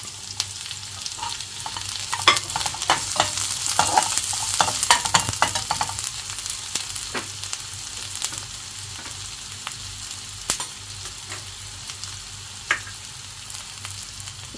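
Green spring onions frying with ginger and garlic in a pan, a continuous loud sizzle broken by repeated scraping and clacking stirring strokes, busiest early and easing later, with no one talking.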